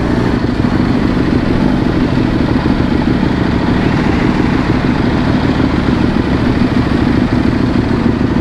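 A sport motorcycle, either an EBR 1190 or a Kawasaki H2, runs its engine loudly and close by, a steady dense rumble that holds throughout without clear rev peaks.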